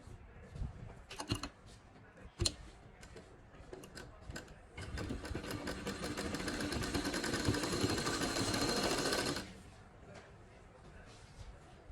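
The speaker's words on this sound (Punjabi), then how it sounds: "ਇੱਥੇ ਆਪਾਂ ਦੱਬ ਕੇ ਸਿਲਾਈ ਲਾ ਦਾਂਗੇ" A sewing machine stitching a suit runs in a steady burst of rapid mechanical whirring for several seconds, preceded by a few short clicks and handling sounds, close and moderately loud.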